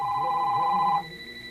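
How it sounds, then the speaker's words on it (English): An electronic telephone rings with a steady high tone for about a second before cutting off, heard alone in a quiet room. "Oh boy, President Nixon's got a call."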